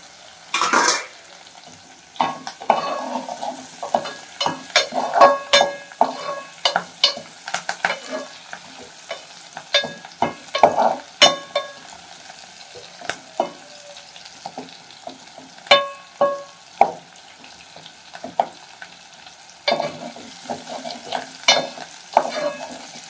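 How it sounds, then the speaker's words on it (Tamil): Chillies frying in oil for a karunai kizhangu kuzhambu, a light sizzle broken by repeated clanks and scrapes of a spoon stirring in the pan, irregular and close. "மிளகாலாம் இப்படி எண்ணெயிலே வேக விட்டுட்டா."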